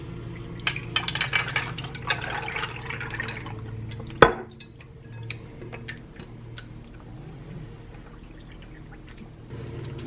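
Chicken parmesan casserole mixture poured from a bowl into a 13x9 baking dish, soft wet glugs and scrapes with one sharp knock partway through, fairly quiet overall.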